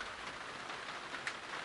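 Steady rain falls in an anime scene during a thunderstorm, a soft continuous hiss of drops with no talk over it.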